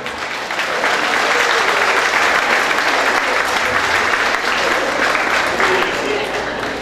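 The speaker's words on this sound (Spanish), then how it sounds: "¡Un aplauso!" An audience at a Catholic faith talk on the Immaculate Conception breaks into loud, sustained applause, a dense wash of clapping that holds steady for several seconds before starting to ease, heard close and alone.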